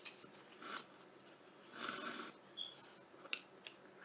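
Scissors snip through jute rope on a wreath, a few quiet, close cuts and crinkles spread out with faint handling noise between them.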